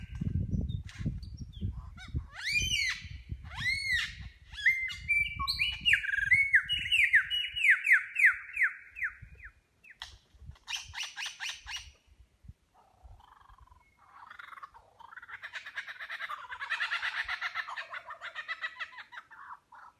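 A lyrebird calls on a nature trail beside a school, mimicking a kookaburra: bursts of loud, rising cackling and chattering notes in rhythmic runs, followed by quieter scattered calls and another chattering spell, heard up close without talk.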